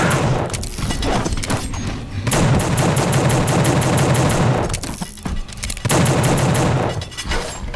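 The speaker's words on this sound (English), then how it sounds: "Oh shit, it's shooting." Enemy gunfire in The Suffering comes as loud, dense automatic bursts with heavy booms, broken by a couple of brief lulls before the shooting resumes.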